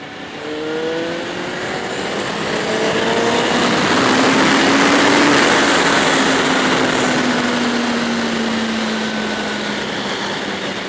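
A Kawasaki Ninja 250R motorcycle engine winds up hard in first gear, a loud, high-pitched, steadily rising whine that climbs for several seconds and then holds near the top, close and without talk.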